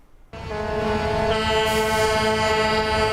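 A sustained, blaring car horn starts abruptly and holds a loud, steady tone, with other horns layering in the background.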